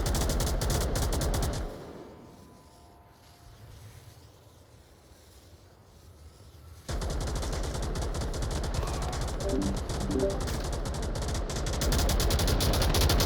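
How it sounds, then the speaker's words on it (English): Rapid bursts of automatic gunfire and rattling machine-gun fire in a VR shooter match, loud and dense, dropping to a quieter lull midway before an intense volley of shots resumes and keeps going. "in a flurry of bullets and gunfire"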